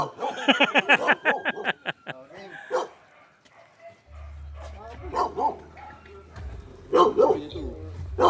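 A dog yips and barks in a quick run of sharp calls near the start, then people talk over a low engine rumble at a charity ride event.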